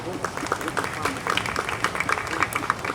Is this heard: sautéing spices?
no